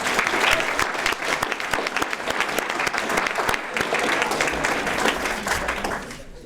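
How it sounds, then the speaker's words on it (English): A banquet audience at a Rotary excellence awards dinner breaks into sustained, steady applause, dense clapping from many hands throughout, close and loud with no voices over it. "We have a round of applause for them, please."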